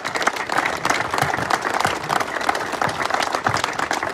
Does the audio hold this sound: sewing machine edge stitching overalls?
no